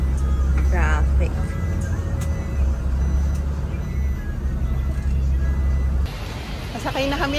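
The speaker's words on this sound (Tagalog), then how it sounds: "Traffic." Steady road traffic rumble heard from aboard a bus, with engine drone and passing vehicles, a short beeping tone near the start and a brighter shift in noise toward the end.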